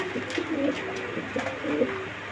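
Racing pigeons for sale give soft, repeated throaty coos, several low calls rising and falling close by over a faint background hum.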